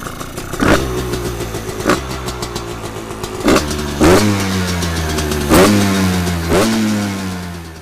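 A Husqvarna WR 125 enduro motorcycle engine, running without an air filter, starts and revs in repeated loud bursts, each throttle blip rising then falling back, close and prominent throughout.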